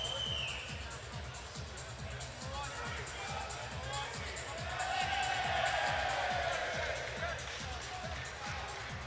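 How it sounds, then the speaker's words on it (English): A packed crowd at a Thai boxing bout between Dean James and Dimitri Varats roars and cheers continuously, swelling louder midway, while a commentator talks over the din. "The crowd's going wild."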